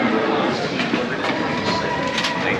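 A London Underground tube train rumbles steadily with broadband rail noise and a faint whine, close and loud throughout, with people talking faintly underneath.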